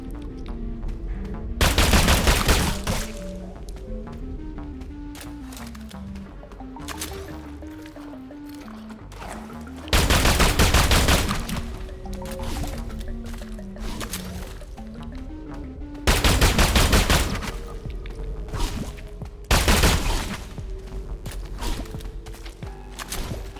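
Heavy bursts of gunfire in the video game SULFUR come in several loud volleys separated by quieter stretches carrying a looping melodic game soundtrack and ambient rumble.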